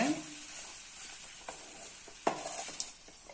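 Spoon stirring salt through vegetable lemon rice in a pan, a soft steady scraping and faint sizzle with a couple of sharper scrapes near the end, no talking.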